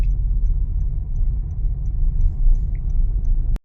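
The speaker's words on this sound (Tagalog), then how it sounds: "Usual traffic." Ordinary street traffic on a sandstorm day, a steady low rumble of passing cars and engines heard close and continuous, ending abruptly.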